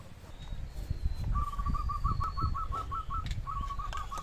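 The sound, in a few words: birds calling, dove cooing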